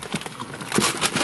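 Close, loud crunching of cheesy Cheetos snacks, a quick run of irregular crisp crackles packed into about a second.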